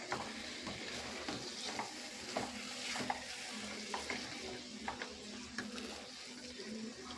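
Mushrooms frying with garam masala are stirred in a pan, producing a soft continuous sizzle with scraping stir strokes, close but quiet and with no talking.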